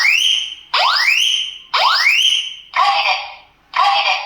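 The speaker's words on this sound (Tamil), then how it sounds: "இது வந்து பார்த்திங்கன்னா சேஃப்டி அலாரம்" A Japanese-brand kitchen smoke alarm sounds loud and close, with repeated rising electronic whoops followed by harsh buzzing bursts in a steady cycle.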